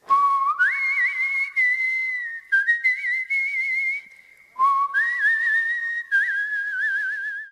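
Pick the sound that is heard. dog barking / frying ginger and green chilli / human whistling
human whistling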